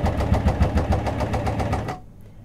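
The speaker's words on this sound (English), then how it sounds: "I can then lower my foot again and I can finish sewing." A Janome sewing machine stitches in a steady, fast mechanical rhythm for about two seconds, loud and close, then stops abruptly into quiet.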